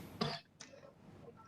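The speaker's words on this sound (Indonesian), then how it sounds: "nggak tidur jadi batuk terus" A short, rough throat clearing followed by a softer cough, heard close and alone in a quiet indoor room.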